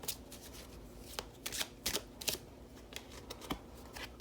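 Tarot cards are shuffled close up, a steady papery riffle with several sharper slaps and flutters, soft and alone with no voices.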